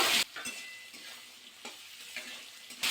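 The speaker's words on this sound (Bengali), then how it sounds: "এবার একটু নাড়াচাড়া করে নেবো" Malabar spinach chachchari is stirred in a pan, soft sizzling under a few scraping spoon strokes, with louder bursts at the start and end.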